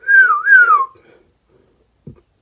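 A person imitates the R2-D2 astromech droid with a short, bright two-part whistle that swoops up and down, loud and close. A faint soft knock follows after a pause.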